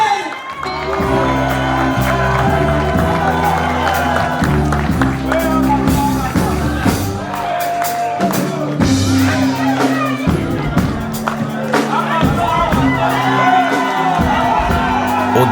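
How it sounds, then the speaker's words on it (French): A concert crowd in Montreal cheers, whoops and applauds for a Makossa star over loud, steady stage music with a pulsing bass line, the audience noise a continuous layer of voices throughout. "je vous prie encore d'applaudir comme il se doit"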